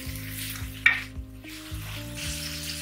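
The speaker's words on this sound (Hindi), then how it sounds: "5 मिनट तक इसको फ्राई कर लें।" Vegetables sizzle steadily in a hot pan for a mixed vegetable Chinese-style dish, a continuous close frying hiss with a brief sharp clatter near the start, no voices.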